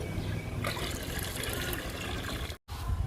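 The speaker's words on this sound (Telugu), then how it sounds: "ఈ లిక్విడ్ని మొక్కలకి ఇచ్చేద్దాము ఇప్పుడు" Liquid being poured onto indoor plants, a steady trickling, splashing flow running close and fairly quiet for most of the clip, broken by a brief gap near the end.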